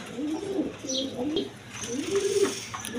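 A pair of Sirazi pigeons coo in throaty, rolling phrases, close and moderately loud, with softer higher twitters between calls and a light room murmur underneath.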